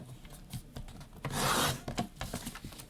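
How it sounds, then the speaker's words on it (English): Scissors snip and rub through paper as small extra tabs are trimmed off pieces of a tri-fold candy cane cottage craft, a series of close, short scratchy cuts with one longer rasping stroke near the middle. "we're going to start by trimming off all of these extra little tabs"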